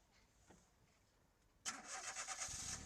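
A car engine cranks and catches after a battery recharge, firing abruptly into a loud, steady idle with slight revving pulses, following a quiet lead-in with faint background noise.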